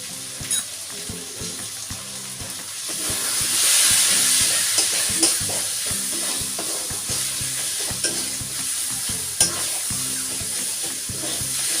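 Chicken with turmeric and chili powder sizzling in a pan while being stirred, with steady frying hiss and repeated knocks of the spoon scraping the pot, a burst of louder sizzle midway, no talking.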